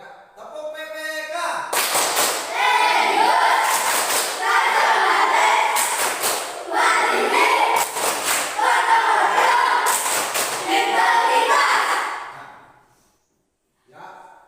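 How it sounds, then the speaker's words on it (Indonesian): A group performs the rhythmic 'tepuk PPK' clap routine, repeated patterned phrases of loud clapping with chanted voices, ending in quiet before a single voice speaks. "Ya, tepuk PPK."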